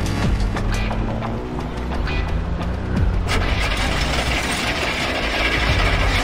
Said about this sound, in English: Got some engine trouble.